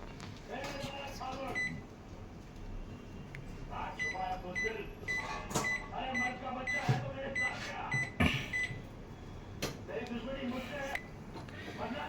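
A microwave oven runs in a home kitchen with chicken kebab turning inside, a low steady hum broken by clinks, taps and a beep, with a person talking intermittently over it.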